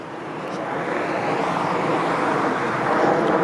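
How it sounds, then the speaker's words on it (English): A jet aircraft passes overhead on Drewry Avenue in Toronto's Newtonbrook neighbourhood, a broad steady roar that slowly swells louder throughout, with faint street noise beneath it. "Here, a jet going by."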